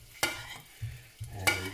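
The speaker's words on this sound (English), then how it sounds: "We want to baste these beautiful scallops." Scallops fry in a pan while being basted with butter. A steady sizzle is broken by sharp scraping and spooning clatters at irregular intervals, close up.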